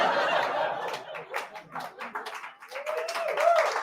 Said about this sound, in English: You don't need to clap.